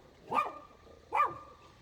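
A small dog barks twice, two sharp, fairly close yaps spaced about a second apart in an otherwise quiet indoor room.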